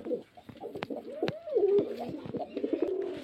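Pigeons coo close by in a low, rolling, throaty call, with a few sharp clicks and flutters around it and no voices.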